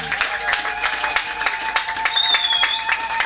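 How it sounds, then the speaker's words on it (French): A church congregation claps and cheers in praise, a steady wash of applause with scattered hand claps and a few voices, fairly loud and continuous. "Est-ce qu'on peut acclamer encore le Seigneur?"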